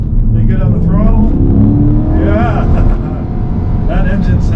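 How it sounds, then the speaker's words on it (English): A 2021 Chevrolet Corvette Stingray convertible engine pulls hard out of a hairpin on a public road, a loud, continuous rising roar with climbing harmonics, a brief dip near the end, and talk mixed in over it. "That engine sounds amazing."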